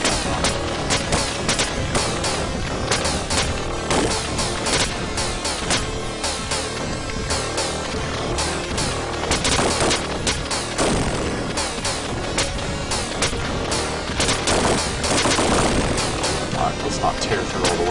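Dense gunfire and explosions fill the video game Encyclopedia Bombastica: Target Earth, a loud continuous barrage of shots and booms mixed with game noise, with a voice talking over it.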